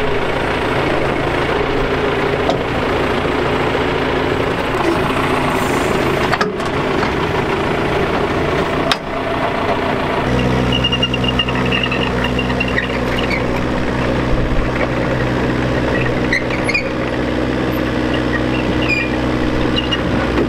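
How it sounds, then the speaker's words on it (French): A tractor engine runs loudly nearby for twenty seconds, a steady idling drone that shifts around the midpoint into a deeper, more even rumble, with no one speaking over it. "là on va accrocher le tracteur"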